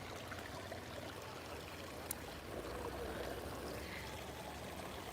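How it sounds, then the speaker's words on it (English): A small stream in a botanic garden flows with a faint, steady trickling wash that holds evenly throughout, with no voices over it. "I always wonder where these little streams go to."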